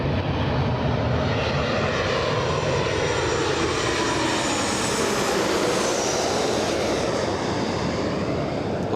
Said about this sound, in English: next arrival, 737 coming in